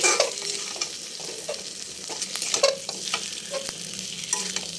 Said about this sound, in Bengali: তারপর ডিমগুলো আমি এর মধ্যে দিয়ে দিচ্ছি।